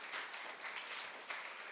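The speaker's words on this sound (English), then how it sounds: "Let's give her a round of applause." An audience at a lecture gives a round of applause for the speaker, a steady, fairly faint wash of many hands clapping with no voices over it.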